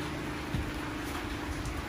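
Steady rain falling outdoors on an evening in October, a continuous broadband hiss with no distinct drops standing out, fairly close and uninterrupted with no voices.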